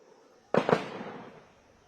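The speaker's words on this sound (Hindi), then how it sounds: "फिर से फायरिंग हो रही है और वहां से दूसरी तरफ से भी काउंटर फायर हो रहा है।" Two sharp, close gunshot cracks in quick succession ring out during an army encounter operation in Kokernag, Anantnag, followed by a long fading echo against a quiet background.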